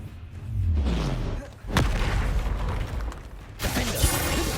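A spell cast in the wizarding game Hogwarts Legacy, a muffled rumble swelling into a sharp magical crack, then further booming combat hits and whooshes in a continuous busy din.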